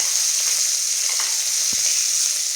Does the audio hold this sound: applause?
no